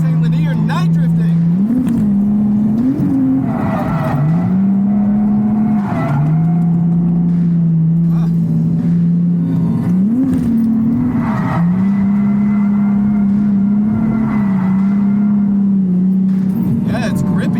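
A drift car engine revs on a race track at night, holding a loud steady drone that repeatedly surges and dips as the throttle is worked, with tire noise and voices talking over it.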